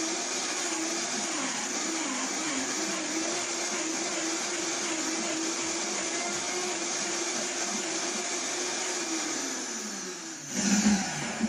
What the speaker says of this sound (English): I'm using a Vitamix, which is a really good high-powered blender